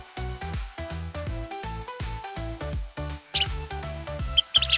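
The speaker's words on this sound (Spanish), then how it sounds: "Este es un ratón." A mouse squeaks in a children's animal-sounds lesson, high and thin over a bouncy, looping music bed, with a few brighter chirps near the end.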